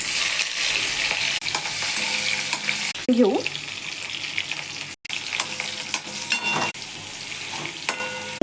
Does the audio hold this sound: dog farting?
no